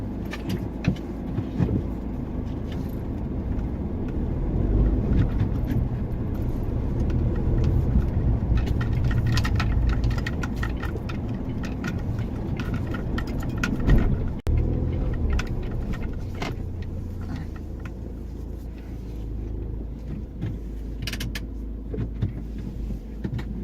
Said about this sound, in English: I'm stopping my vehicle here